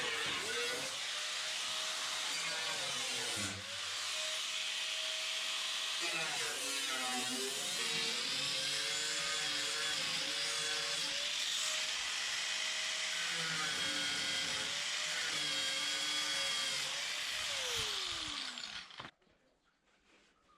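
Power drill boring through the spot welds on a steel car body panel, a continuous high-pitched whine that dips and recovers as the bit bites into the metal, running steadily for about eighteen seconds before cutting off.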